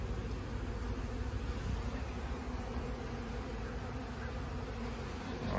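Honeybees from a week-old swarm clustered thickly over the middle hive frames, giving a continuous low, soft buzzing hum that stays even and close throughout.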